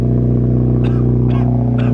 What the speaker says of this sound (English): Forgot how quickly this car spools.